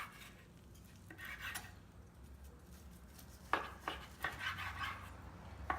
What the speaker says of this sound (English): I'm going to cut this. You see that? I'm going to do thick pieces here.